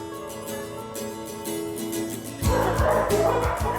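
Young collie puppies yipping and barking near the microphone, high-pitched and repeated, growing louder and busier partway through.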